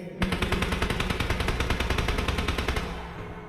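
Rapid automatic gunfire in the mobile battle-royale game PUBG Mobile, a steady dense burst of shots that rattles on loud and close for about three seconds before easing slightly, with no talk over it.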